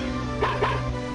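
Two short, soft dog barks from the video game Mother 3, separated by a brief pause and set against a steady low game background hum.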